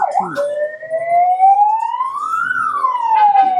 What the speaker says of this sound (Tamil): எமர்ஜென்சிக்கு இந்த சைரன் போடுவோம்